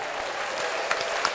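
Brief, steady applause from an audience at a live interview event, a short wash of clapping with no voices.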